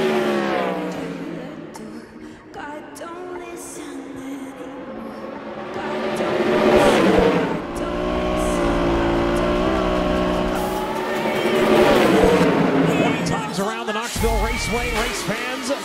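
Several 360 sprint cars roar around Knoxville Raceway in a continuous loud engine drone that swells and fades as they pass, with a commentator talking over the race noise.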